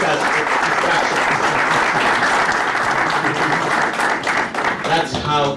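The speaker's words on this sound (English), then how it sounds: "Can we clap for ourselves for being good implementers of instructions?" A seated audience at a Zambian gathering breaks into loud, steady applause, a thick wash of many hands clapping that carries on evenly and tapers slightly at the end.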